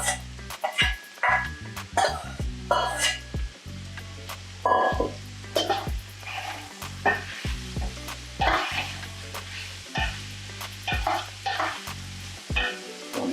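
Onions sizzle and frying in a pot while stirring clatters, for a tomato meat sauce; a steady low hum runs beneath frequent sharp utensil knocks and scrapes.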